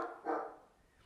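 A dog barks once or twice in the background, faint and distant, with brief soft yelps fading out in an otherwise quiet space.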